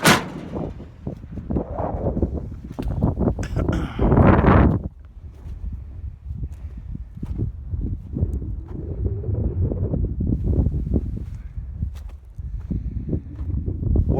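Outdoors, gusting wind buffets the microphone in a continuous low rumble that swells and fades, with scattered thumps and a brief louder burst of noise.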